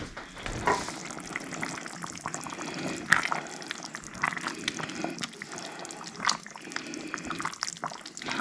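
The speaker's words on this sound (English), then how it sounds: "It's been bubbling away for a while now" A pot of Texas chili bubbles and simmers steadily, with soft, dense popping and gurgling that stays close and moderately quiet throughout, with a few sharper pops standing out.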